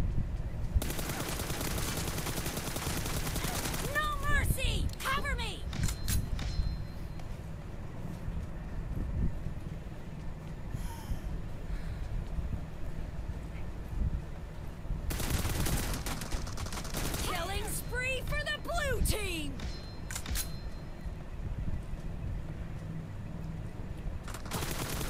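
Bursts of rapid automatic gunfire in the battle royale game BGMI, dense crackling volleys in two main stretches over constant wind-like game ambience, with quieter shots scattered between.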